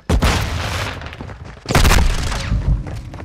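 A grenade blast in the Call of Duty shooter lands as a loud, deep boom near the start, followed by a second heavy explosion about halfway through and a sustained rumbling tail. No one speaks.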